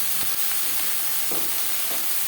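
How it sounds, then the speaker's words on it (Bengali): Eggplant and onion fry in a pan over a medium gas flame with little oil, giving a steady close sizzle throughout with a few soft stirring scrapes and no talking. "দু তিন মিনিট হালকি মিডিয়াম ফ্লেমে নাড়াচাড়া করে নেওয়ার পর গ্যাসের ফ্লেমটাকে লোকে করে দেবো"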